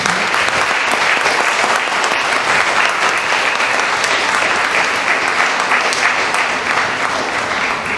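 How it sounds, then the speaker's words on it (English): An audience at an endowment lecture gives sustained, dense applause to honor the speaker, loud and even for the full eight seconds. "a huge round of applause"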